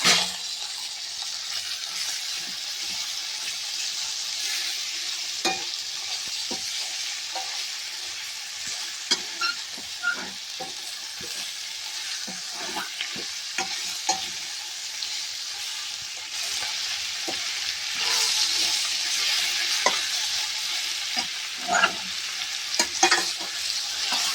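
Boneless Telangana-style chicken added to fried onions sizzles in hot oil. A steady crackling hiss runs throughout, punctuated by irregular stirring clinks and scrapes, and grows somewhat louder toward the end with no one talking.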